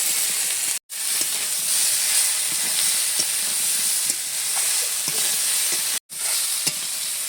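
Vegetables fry hard in a hot wok, giving a loud, continuous sizzle and hiss with scraping stirs. Two brief dropouts break the sound, and no one speaks.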